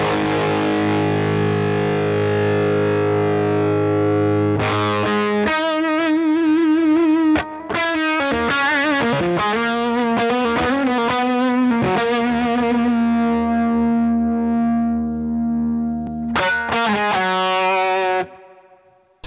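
An Epiphone electric guitar fitted with Guitar Fetish pickups plays through a Boss FZ-1W fuzz pedal into an overdriven Orange Terror Stamp amp, giving loud, thick, sustained fuzzy chords and riffs with no talking.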